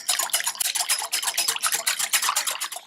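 Sour cream is stirred into chocolate cake batter with quick, rhythmic swishing and scraping strokes that repeat steadily and close by, with no talking.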